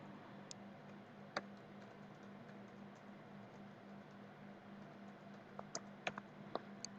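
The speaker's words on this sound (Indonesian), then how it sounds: "di kolom URL ini kamu ketik download Windows 11" Faint, sparse keystrokes on a computer keyboard while a web address is entered in a browser, a few soft isolated clicks with a small flurry near the end over a low, steady hum.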